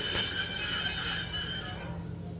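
A local train on a main line squeals as it brakes to a stop, a loud sustained high metallic screech over low rumbling wheels that fades out at the end, with no voices.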